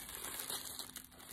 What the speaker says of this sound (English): And it's got tissue paper inside it.